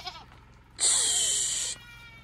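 A goat gives one loud, close, wavering bleat lasting about a second, rising out of a quiet foggy outdoor hillside.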